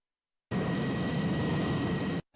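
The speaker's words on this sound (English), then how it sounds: "that's basically what I hear in my head when I hear a jet that you're flying from within" A synthetic jet-plane flyover effect roars as a dense, loud, steady rush with a high whine, starting abruptly after a half-second of silence and cutting off sharply near the end.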